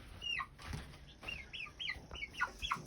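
Chickens on a small farm, including a Barnevelder crossbreed, give a run of soft clucks and short rising calls, faint and slightly distant against low background noise.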